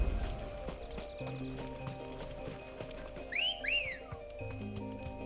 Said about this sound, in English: Did he just wolf whistle to the chocobo?